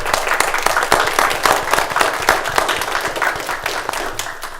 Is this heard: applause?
yes